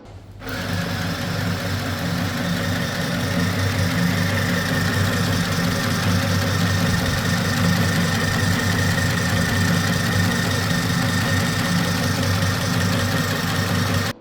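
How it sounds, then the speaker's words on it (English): A Chillaxplus mini sewing machine winding thread onto its bobbin, a loud, close, steady motor whir with a mechanical rattle that starts abruptly and runs evenly for over ten seconds, with no talking. "press the start button. The bobbin will start rotating, the thread would get filled up"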